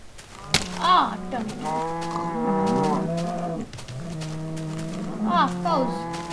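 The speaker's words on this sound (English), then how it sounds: "Ah, cows." Cows moo in a Minecraft-style modded game world, several long drawn-out lowing calls back to back at close range, with a sharp thwack near the start.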